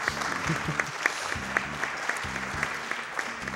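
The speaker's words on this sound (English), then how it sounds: "I do always appreciate clapping for RNG" Sustained applause from a speedrun marathon audience, dense clapping filling the whole stretch with a few sharper claps standing out, while some talk continues underneath.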